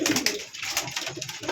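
Pigeon cooing close by in a loft of pigeons kept for sale, soft throaty rolling coos repeating in quick succession, no talk over it.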